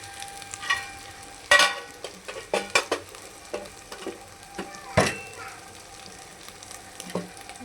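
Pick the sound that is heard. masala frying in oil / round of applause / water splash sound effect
masala frying in oil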